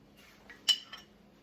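A metal skillet handled on a stovetop, a few faint clinks with one sharper metallic knock in the middle, close and isolated against quiet.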